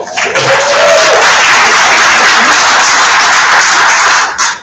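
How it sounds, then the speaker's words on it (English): Audience applause at an annual meeting and expo, a dense sustained burst of clapping from a large crowd that fills the room for several seconds, loud and steady before cutting off. "So give her a round of applause."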